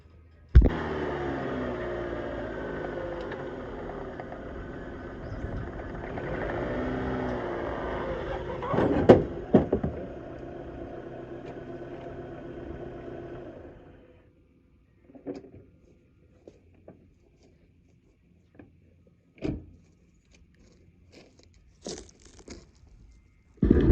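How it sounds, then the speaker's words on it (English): A 2003 Dodge Neon rolls off jack stands after an oil change, its engine running steadily for about fourteen seconds with a few thumps and knocks, then cutting off, followed by scattered clunks and rattles in a quiet garage. "I like to pull my car back off the stands before I check the oil again"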